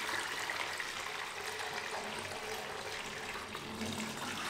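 Dirty water pours steadily from a motorbike helmet after it has been washed, a continuous close splashing gush with no breaks and no talking.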